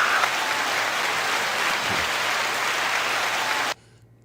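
Applause from a group, a dense continuous patter of clapping for nearly four seconds that stops abruptly, close and loud, with no talking.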